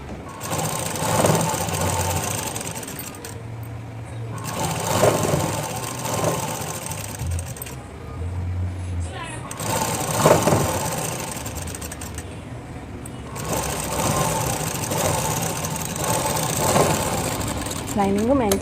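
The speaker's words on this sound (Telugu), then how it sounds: "2 కలిపి కుట్టేస్తున్నాను ఒక సైడు. బెల్ట్కి లైనింగ్ మెయిన్ జాయిన్ చేస్తున్నాను." Sewing machine stitching a lehenga belt to its lining, running in repeated bursts with short pauses, while someone talks over it.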